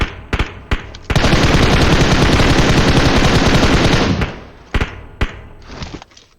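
Video game gunfire on the Livik map: a few single shots, then a loud, sustained burst of rapid automatic fire lasting about three seconds until the ammo runs out, followed by scattered thuds and single shots.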